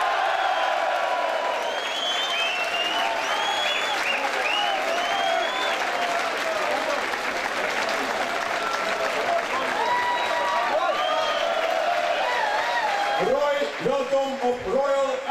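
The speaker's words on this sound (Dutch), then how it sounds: "Uw applaus voor vanaf nu een officiële speler van Royal Antwerp Football Club, het nummer 2, Roy Bakkenis." Large stadium crowd applauding a new Royal Antwerp Football Club player at a fan day, sustained dense clapping across the whole stretch with a few cheers, while an announcer speaks over a PA above it.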